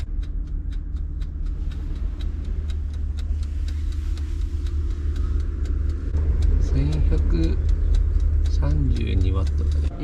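An EENOUR P2001PLUS portable power station's cooling fan runs while it powers a kettle and toaster in the bed of a kei truck, a steady, fairly quiet whirring hum with faint regular ticking and voices partway through.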